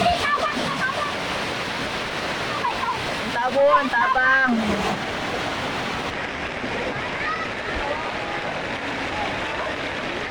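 Strong rushing floodwater pours through a waterway toward a creek in a flooded residential area, a steady broadband roar heard close and continuous while people speak over it.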